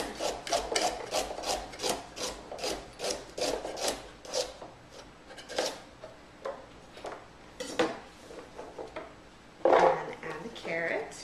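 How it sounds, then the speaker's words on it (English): A knife chops a carrot on a cutting board for a raw food recipe, giving a run of quick, close, rhythmic cuts with occasional louder knocks. "I'm just going to quickly chop up the carrot"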